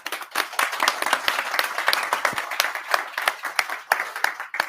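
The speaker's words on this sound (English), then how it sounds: "Can I get an applause for Martin, our lovely assistant?" Applause for an assistant at a book launch event, a roomful of people clapping with uneven, sharp, closely spaced claps at moderate loudness, no talking.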